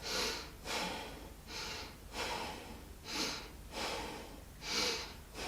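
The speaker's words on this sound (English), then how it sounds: "Place your hand on your belly and just breathe kind of straight out into your hand." Fast forceful breaths pushed out into a cupped hand, done as a belly-breathing exercise for prolapse relief: six evenly spaced breathy bursts, close and moderately loud, with no talking.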